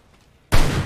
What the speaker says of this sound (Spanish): ¿Quién me disparó?